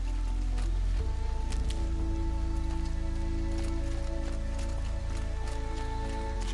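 Steady rain in the video game Horizon falling on a surface, a dense patter of drops with a few sharper drips standing out, no voices.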